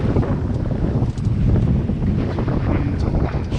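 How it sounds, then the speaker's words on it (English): Strong gusting wind roars across the microphone during a boat crossing from Penzance to Scilly, a dense continuous rumble with slight swells in force and faint water noise beneath, no voices. "Wind, stronger wind."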